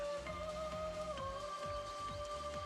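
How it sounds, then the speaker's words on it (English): Rain falls steadily in Final Fantasy XIII, a soft continuous patter beneath layered game music with sustained tones and rhythmic pulses, no voices. "Come out to play in the rain, did you?"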